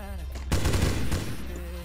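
A short burst of gunfire in the offline mobile zombie shooter game Zombie: Whispers of the Dead, a sudden rapid clatter of shots heard over a background drone with faint tonal game sounds.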